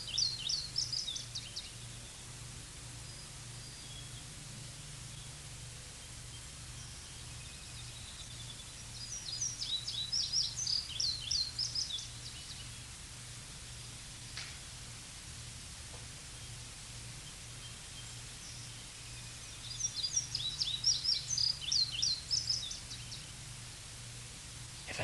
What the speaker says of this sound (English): If I say I must listen to those birds, I can't listen.